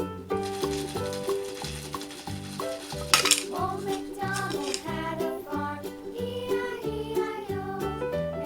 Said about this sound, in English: Here's our stove and our frying pan.